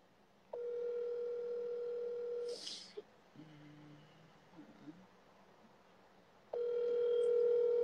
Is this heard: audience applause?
no